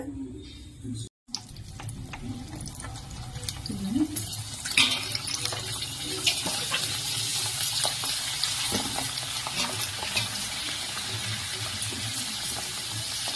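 Amla gooseberries fry in about half a litre of hot peanut oil, giving a steady, close hiss of sizzling with scattered pops and crackles throughout.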